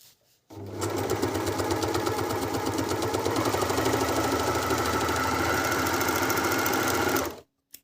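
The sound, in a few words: Elna 904DE overlock sewing machine sewing a rolled hem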